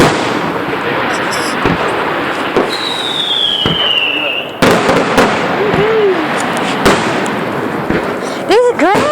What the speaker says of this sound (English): Now, this is the America fireworks.